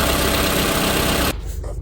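A Toyota Alphard 30 series engine idles after a dead-battery jump start: a dense, steady close-up rumble that stops abruptly around the middle, leaving quiet background.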